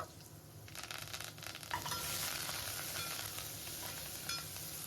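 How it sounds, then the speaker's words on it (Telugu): Onions, garlic and curry leaves sizzle steadily in hot oil, a dense crackling hiss that swells after the first second and stays loud throughout. "ఇప్పుడు ఈ తాలింపు మంచి కలర్ వచ్చినంత వరకు బాగా ఫ్రై అవనివ్వాలి"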